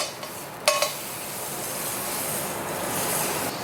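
Butter drops into a very hot cast iron pan for an Angus ribeye, a metallic clink followed by a loud, steady hiss and sizzle that holds and swells slightly.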